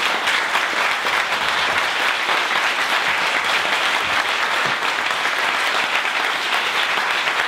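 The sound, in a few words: audience applause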